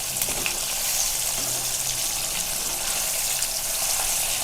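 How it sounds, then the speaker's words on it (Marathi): Fish frying over high heat in hot oil makes a continuous, even bubbling sizzle, close and moderately loud throughout. "दोन्ही साईडून भाजून घ्यायचे व्यवस्थित अशी तळून."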